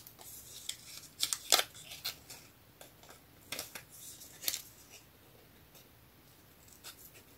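Small scissors snip around a printed paper piece for a vintage-themed craft card, with irregular crisp cuts in short bursts, close and fairly clear in a quiet room.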